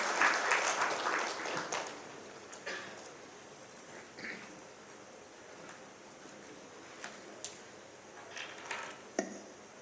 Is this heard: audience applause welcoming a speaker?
yes